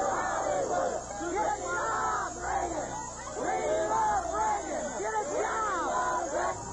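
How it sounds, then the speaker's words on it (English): Hundreds of anti-Reagan protesters boo and shout at the passing presidential motorcade, a dense, sustained crowd roar of overlapping jeering voices rising and falling throughout. "the presidential motorcade was booed as it traveled across town"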